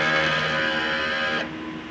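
A Smart 6ft one-head sublimation printer runs its head clean cycle, producing a steady mechanical whir with a sustained tonal hum that cuts off abruptly partway through, leaving a quieter background drone.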